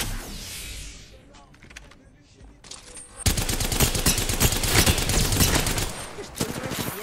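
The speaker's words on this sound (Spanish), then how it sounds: "Estoy recibiendo disparos." Video game gunfire from an Apex Legends match: scattered shots first, then a dense, loud burst of rapid automatic fire from about the midpoint onward, with a few chattering gaps.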